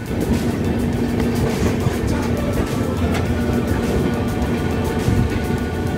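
Ajmer Sealdah Express (12988) pulling out of Dankuni Junction toward Sealdah, heard from on board as a loud, steady rolling rumble with faint rhythmic rail clatter and a low hum throughout.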